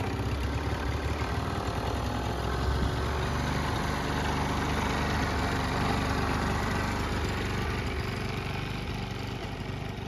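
An old scooter engine runs steadily at close range, a loud continuous buzzing drone with an even throb throughout and no talking.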